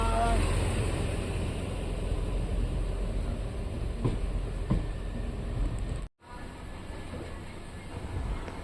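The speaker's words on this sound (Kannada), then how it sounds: "5 ನಿಮಿಷ ಹಾಲ್ಟ್ ನಂತರ ನಮ್ಮ ಟ್ರೈನ್ ಕ್ಯಾಸ್ಟಲ್ ರಾಕಿಂದ ಹೊರಟಿದೆ." A passenger train on the Goa–Dharwad line pulls out of Castle Rock station, a steady rumble of wheels and carriage noise heard from inside, with a brief dropout partway through.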